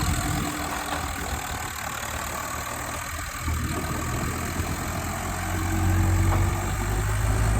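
A Farmtrac 45 tractor engine drones steadily under load, a low continuous rumble with vibration that swells slightly toward the end, heard alone without voices.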